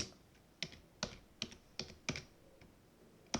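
Quiet computer keyboard typing code for a beginner Python lesson: about eight separate crisp key taps in an uneven rhythm, close by, with no talking.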